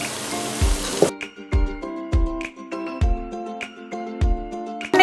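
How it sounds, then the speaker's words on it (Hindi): Tomato puree hitting hot biryani masala in a pan, with a loud burst of sizzling followed by a series of evenly spaced thuds and scraping stirs over a steady background hiss. "अब हम टमाटो प्यूरी डाल रहे हैं।"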